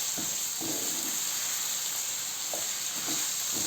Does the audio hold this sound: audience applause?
no